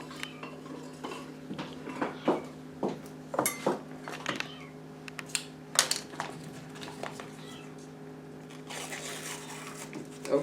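Butter goes into a skillet amid a run of clinks and scrapes of utensils against cookware and dishes, fairly close and moderately loud, with a low steady hum beneath.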